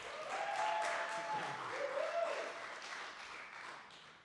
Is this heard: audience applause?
yes